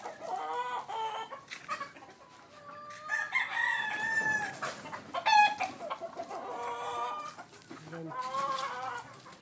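Gamefowl stags cluck repeatedly and crow in several drawn-out calls, some near and some farther off, with faint talk in the background.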